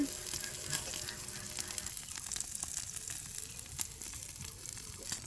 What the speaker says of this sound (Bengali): এখন মাছগুলোকে সুন্দর করে ভেজে নেব